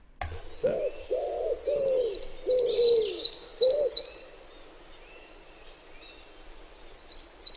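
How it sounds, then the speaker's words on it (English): A wood pigeon in a cemetery park gives a series of soft, hollow coos in a rhythmic phrase, fairly close, followed by fainter high bird calls in the background. "Wood pigeon, pigeon."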